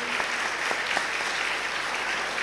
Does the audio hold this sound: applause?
yes